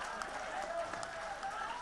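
Audience applause at a Hindi veer ras kavi sammelan poetry recital, a steady wash of distant crowd clapping that holds evenly throughout with no clear breaks.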